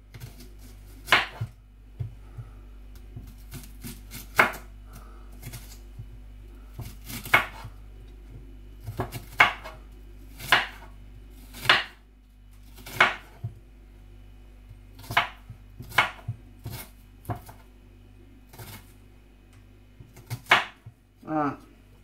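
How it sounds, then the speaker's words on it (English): Onions chopped with a knife on a board in a home kitchen while making breakfast, a steady run of sharp, close thuds at irregular intervals over a low background hum. "Done two chopped up onions, which are gonna go onto my plate."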